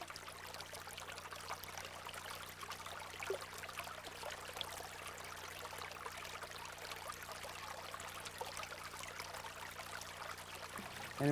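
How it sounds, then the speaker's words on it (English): Water splashes and trickles steadily down a backyard pond cascade, a continuous, even rushing with no pauses. It sounds close and moderately loud, with no voices. "An important part of an integrated natural habitat is water, preferably moving water, water that makes noise, splashing noise."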